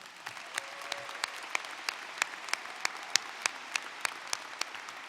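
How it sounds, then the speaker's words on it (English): A graduation crowd at a high school ceremony gives a round of applause, a soft diffuse patter with distinct, regularly spaced louder claps nearby cutting through, faint overall. "Let's give them all a round of applause."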